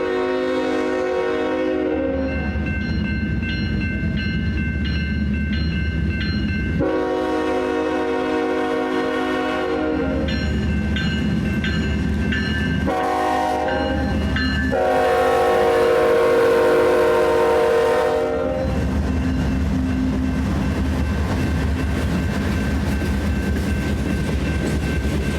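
A train approaches and rolls past with a deep, loud rumble, sounding several long horn blasts, some overlapping in chords, before the horn stops and the rumble continues.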